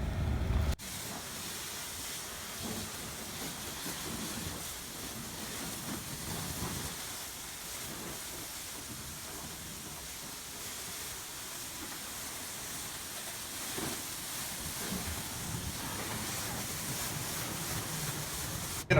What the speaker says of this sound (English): now we're going to pressure wash top to bottom. We're just rinsing the dirt down.